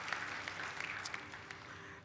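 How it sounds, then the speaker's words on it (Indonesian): Congregation applause fills a church service at Gibeon Church Surabaya, a steady, dense patter of many hands clapping together for the full two seconds, with no pauses. "Berikan tepuk tangan buat Tuhan."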